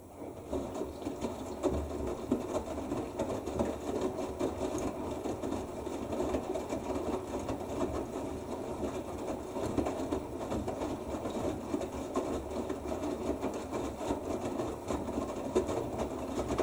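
The drum of an AEG Öko-Lavamat 88840 washing machine tumbles with a continuous, fast, rhythmic mechanical churning and whirring that holds steady at a moderate level, with no talking.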